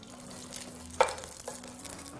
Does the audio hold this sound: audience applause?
no